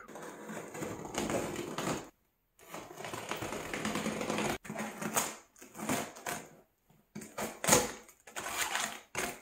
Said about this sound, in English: Then you can pull the cardboard back.